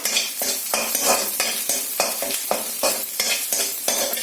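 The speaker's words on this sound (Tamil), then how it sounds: "இது நறுக்கி வச்சிருந்த இந்த கார்லிக்கை வந்து பூண்டை வந்து இதுல போட்டு திரும்ப ஃப்ரை பண்ண போறேன்" Chopped garlic and potato pieces fry on a hot tawa while being stirred, giving close, rhythmic scraping strokes about twice a second over a steady sizzle, with no talking.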